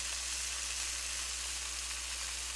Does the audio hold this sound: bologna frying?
yes